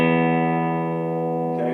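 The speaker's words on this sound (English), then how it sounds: "The Wurlitzer electric piano had a bite to it. It was a very percussive sounding instrument, and it had a buzz almost reminiscent of distortion." A Wurlitzer electric piano holds a single steady, buzzy tone with a distorted edge, loud and close, sounding alone without talk.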